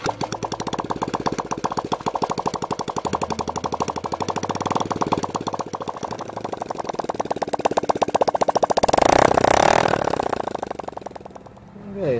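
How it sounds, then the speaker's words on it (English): A 1979 Honda CT90 motorcycle engine runs without a muffler. It makes a loud, rapid, popping exhaust putter that stays even, swells briefly as it revs, then drops off near the end. "I've always wondered what a CT90 would sound like without a muffler"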